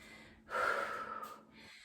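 Someone breathes hard during a HIIT workout, one heavy, rushing exhalation pushed out close and loud, then tapering off, with quieter breath before it.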